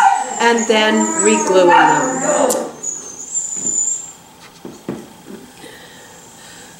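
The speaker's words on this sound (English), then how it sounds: "Sorry about the noise in the background, but that's what happens when you have a house full of schnauzers" Schnauzer dogs whimper and yip in the background while a person talks, the high whines continuing faintly after the speech stops.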